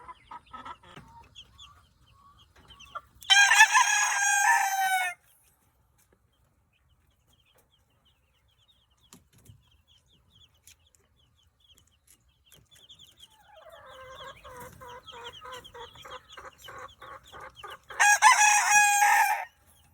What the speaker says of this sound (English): And now for the chicks that I said we were going to show.